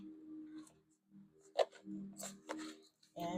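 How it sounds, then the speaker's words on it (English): Tarot cards are shuffled by hand: quiet riffling and flicking with a few sharper snaps, soft and close, with brief gaps between bursts. "So I'll just do 2 shuffles."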